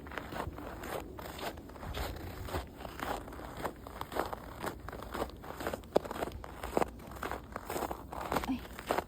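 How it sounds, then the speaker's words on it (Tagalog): Footsteps crunch on snow in a steady walking rhythm of close, crisp crunches, with faint rustling around them. "Yung tunog ng snow na nakapakan."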